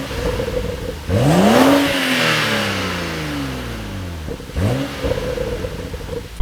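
A BMW M235i engine heard from outside the car revs up sharply twice, each time climbing to a loud roar and then falling back toward idle, with a rumbling idle between the blips.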